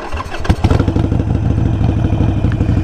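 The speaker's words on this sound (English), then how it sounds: "It's going to lurch forward. You basically stall it out." A motorcycle engine runs close and loud with rough, uneven chugging pulses and a clunk early on as the clutch is let out, the bike jerking while the engine labours.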